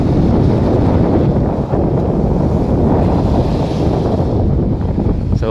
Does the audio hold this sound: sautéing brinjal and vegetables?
no